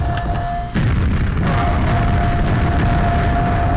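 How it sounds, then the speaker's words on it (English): Grenades going off one after another in a video game, a loud booming blast followed by a dense, continuous rattle of further explosions and debris. "Oh my god, there are grenades everywhere!"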